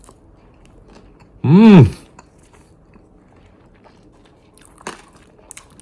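A candy-topped popsicle is bitten once with a loud, close crunch lasting about half a second, followed by quiet and a faint later click; a brief murmur of appreciation is heard.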